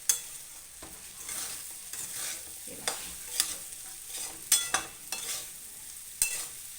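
Sabudana khichdi stirred in a pan during a fasting-day breakfast cook, with repeated scraping strokes and soft sizzling, a few sharper clinks of the spoon against the pan, close and steady with no talking.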